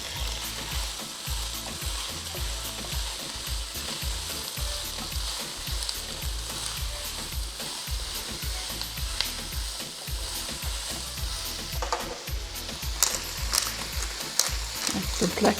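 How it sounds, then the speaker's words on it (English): Onions fry in oil in a pan for a lamb and taro pie, a continuous close sizzle with scraping and stirring rattles throughout, growing busier near the end, no speech. "Let's add our onions."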